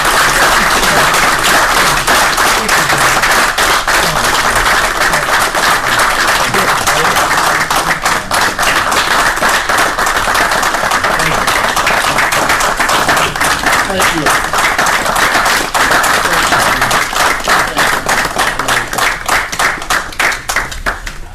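Vigorous, rapid clapping from a city council meeting audience runs for about twenty seconds, close and loud, with faint voices mixed in before it tapers at the end.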